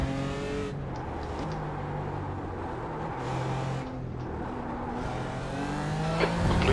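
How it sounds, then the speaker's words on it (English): Race car engine roaring continuously in an iRacing endurance race at Barcelona, a faster class GT3 car closing in and passing, with steady loud engine drone, shifting harmonic tones and a brief tire squeal near the end. "There's a faster class car approaching."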